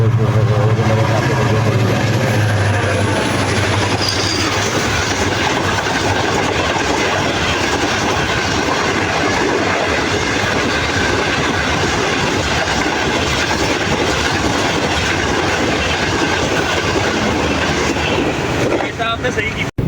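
The Pak Business Express rumbles past a level crossing at Jahania, Pakistan. It makes a loud, continuous roar with rail clatter and a high whine, very close and sustained for about twenty seconds, before it cuts off abruptly.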